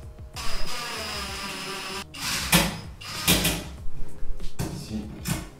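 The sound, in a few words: driving screws in without tightening them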